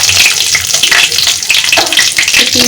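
Whole cumin, garam masala, bay leaf and a dried chili hit hot oil in a pan and fry with a loud, dense, crackling sizzle. The spattering holds steady and close, with no talking over it.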